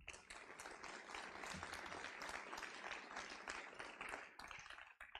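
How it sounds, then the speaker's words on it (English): An audience at a school sports awards ceremony claps in a steady, continuous round of applause that sounds quiet and distant, tapering off at the end. "Please give them a round of applause."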